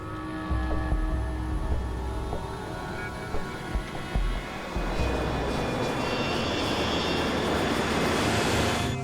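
Aeroflot Nord flight 821 airliner in flight, a steady loud engine roar and rushing hum that fills the clip, with some brief thumps early on and no talk.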